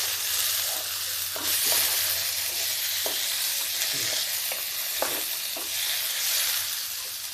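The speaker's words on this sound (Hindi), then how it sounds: "अब इसमें हम ये आलू डाल देते हैं।" Potatoes sizzle and fry in a hot pan with coriander seed, loud and steady, while a spoon scrapes and stirs them in several distinct strokes; no voices are heard.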